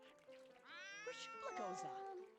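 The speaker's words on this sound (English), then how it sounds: "This cat yowling." A cat yowls in The Sims 2, one long, wavering, rising-and-falling meow that stretches over two seconds and sounds fairly soft.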